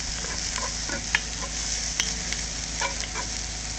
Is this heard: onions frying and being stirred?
yes